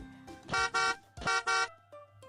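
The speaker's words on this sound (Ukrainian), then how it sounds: "А коли ви почуєте, як сигналить автомобіль," Two loud, blaring car horn honks in quick succession, each a double blast, followed by a quieter background hum.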